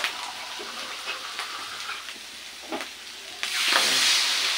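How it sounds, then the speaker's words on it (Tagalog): Water poured into a pan of simmering pork calderita, a soft broad hiss of steam and liquid rising sharply near the end after faint, scattered kitchen clinks and sizzles. "Lagyan na lang natin siya ng ano, konting tubig."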